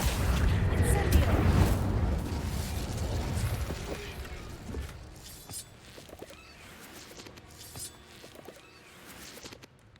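An Incendio fire spell cast in Hogwarts Legacy bursts with a loud, booming whoosh of flame that rumbles and gradually fades into quieter game ambience.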